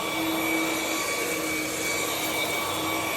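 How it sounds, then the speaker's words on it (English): A Ryobi HP brushless stick vacuum runs with a steady, high-pitched motor squeal over a broad, constant airy roar, close and loud with no pauses. "sort of like an ear-piercing squeal, but not bad. It's just the brushless motor."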